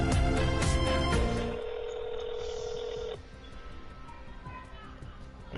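Telephone ringing over a handset line, a steady tone from about 1.5 to 3 seconds after a louder busy opening, followed by quieter background.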